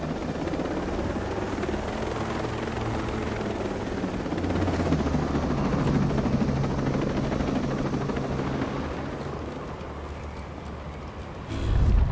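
A helicopter in the video game AG.SYNAPSE keeps up a steady, loud rotor drone for about eleven seconds, its deep throb swelling slightly midway before cutting to a short louder burst at the end.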